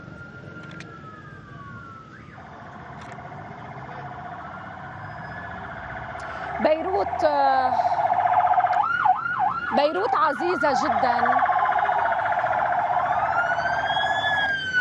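Ambulance sirens in Beirut after the port explosion, wailing and yelping loudly and overlapping, rising in strength partway through, with someone speaking briefly over them.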